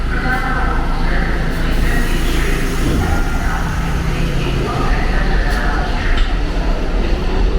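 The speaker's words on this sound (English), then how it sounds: "let's just take a look at this train departing the station" A New York subway train pulls out of the station with a steady loud rumble of wheels and motors, and faint clanks and hiss now and then, while people talk nearby.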